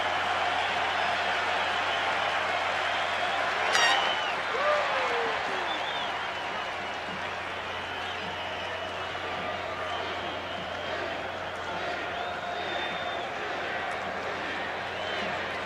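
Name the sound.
baseball stadium crowd cheering and applauding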